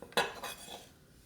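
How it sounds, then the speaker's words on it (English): Knife cutting ginger into slices on a cutting board: two or three quick, crisp knocks close by, faint and alone with no talking. "Cut ginger into slices"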